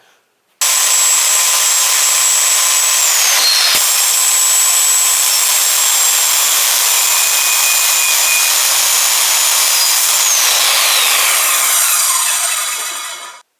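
A pallet wood board being cut with a loud, continuous power saw whine that holds steady for about twelve seconds, with shifting pitch as the blade loads, then winds down.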